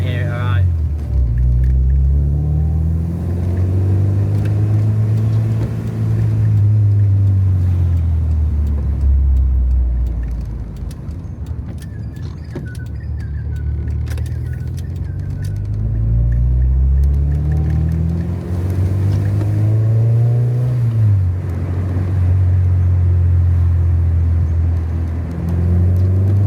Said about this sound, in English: Sounds so nice, it just drives so good, this car as well.